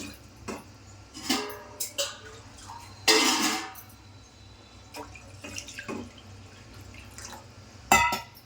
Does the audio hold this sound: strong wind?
no